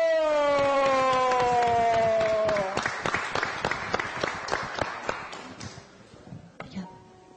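Audience applause for a singer at an afternoon show, starting after a long sustained tone and breaking into scattered, uneven claps that gradually thin out and fade.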